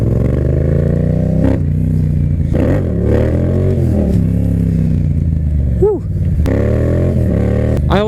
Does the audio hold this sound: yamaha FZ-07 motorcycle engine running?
yes